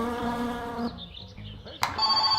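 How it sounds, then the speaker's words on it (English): In the video game My Summer Car, a landline telephone rings with a buzzy, harmonic bell tone that stops and then starts again, heard over a low background drone alongside someone talking. "Let's go shut that phone line off."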